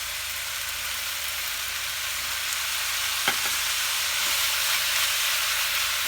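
Soy sauce and rice vinegar hit hot oil with fillings in a wok for Singapore noodles, giving a steady, close frying sizzle and hiss throughout, with one sharp clink of a utensil partway through.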